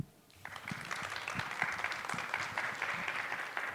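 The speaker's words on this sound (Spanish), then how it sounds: "recibamos a Miguel con un aplauso." An audience applauds at a university lecture, greeting a guest speaker. The clapping is steady and full, swelling in just after a brief quiet start and continuing without a break.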